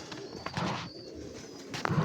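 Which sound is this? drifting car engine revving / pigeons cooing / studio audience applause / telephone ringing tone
pigeons cooing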